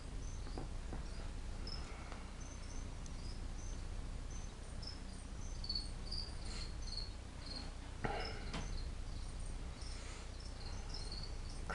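A feeder cricket chirps in short, faint bursts inside a tarantula enclosure, heard against a steady low hum of background noise.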